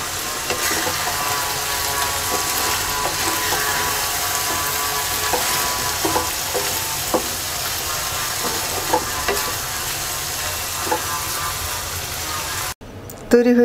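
Kochur loti cooked with a hilsa head is stirred in a pan with roasted cumin powder and chopped coriander, producing close, repeated scraping strokes over a steady sizzle before the sound cuts off abruptly.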